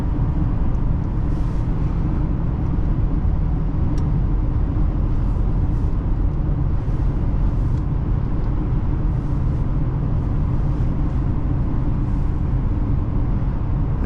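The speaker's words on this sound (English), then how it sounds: "Put on sport again and roll into the throttle." A 2014 Hyundai Equus 5.0 V8 sedan accelerating in sport mode, heard from inside the cabin as a steady, loud engine drone mixed with road and wind rumble.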